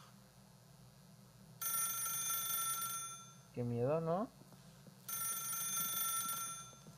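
A telephone rings in The Stanley Parable, with two long electronic ring bursts separated by a pause, during which someone speaks briefly over a low background hum.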